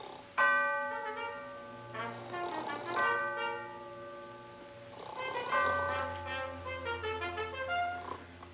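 A ship's bell strikes four bells, resonant metallic rings in spaced pairs with long sustaining tones, fairly near and alone, from a 1936 film scene.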